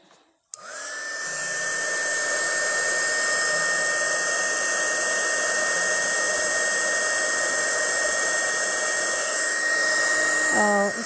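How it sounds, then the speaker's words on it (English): A heat gun clicks on and blows a steady, loud whine of hot air over resin jewellery made with wedding flowers, running continuously before a brief change in pitch at the end. "If I use the heat gun"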